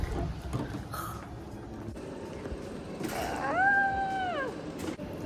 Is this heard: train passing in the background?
no